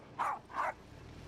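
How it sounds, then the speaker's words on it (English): A guard dog gives two quick, close barks in succession, then falls quiet. "Quite the guard dog."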